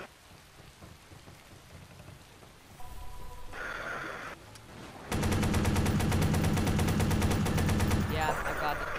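Sniper rifle fire in Watch Dogs rings out among game sounds that shift through several layers, ending in a loud stretch of rapid, rattling repeated shots under rain-like noise.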